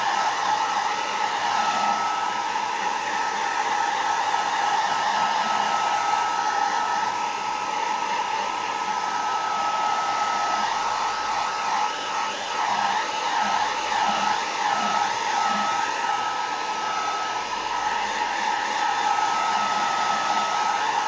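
Hair dryer gently drying off a vase, a steady, close, continuous blowing whir lasting the whole stretch with no speech.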